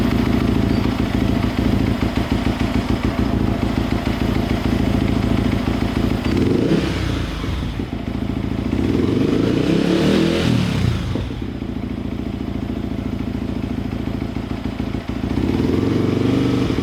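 A motorcycle fitted with an AWR aftermarket big-volume long exhaust runs loud and close with a rough, pulsing idle, then revs up in several swelling bursts before dropping back to idle.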